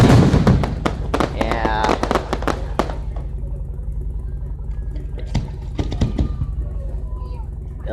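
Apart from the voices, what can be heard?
fireworks exploding downtown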